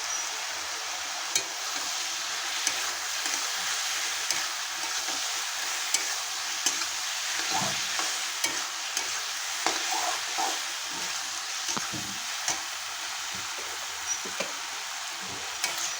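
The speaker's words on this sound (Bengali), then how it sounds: "লাউ আর আলু আমার খুব ভালো করে নেড়ে চেড়ে নিয়েছি।" Bottle gourd and potato stirred in a cooking pan with turmeric and a little water, soft continuous sizzle with intermittent scraping and knocks of the spatula, close and alone.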